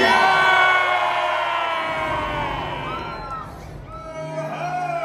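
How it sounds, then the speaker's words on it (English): A dinner-show audience at a pirate-themed dinner adventure screams and cheers loudly, a dense crowd roar with high shrieks that swells and then dips before rising again. "let me hear you scream!"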